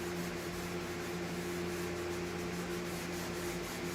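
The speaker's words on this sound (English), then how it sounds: "you just go back over and rub some more over it" Danish oil rubbed by hand onto wood in an RV interior conversion, a steady continuous rubbing and wiping with no pauses, close and moderately quiet over a constant low hum.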